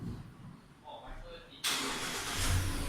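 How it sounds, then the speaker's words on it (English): A 2018 Mazda CX-5 engine cranks and catches abruptly after a quiet stretch of cabin noise, settling into a steady, fairly loud idle hum close by. "Now go to start the car."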